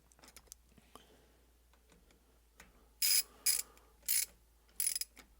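Bolts being tightened with a ratchet during a short shifter install on a Mazda Miata roadster, faint scattered clicks followed by four sharp loud ratcheting bursts close by.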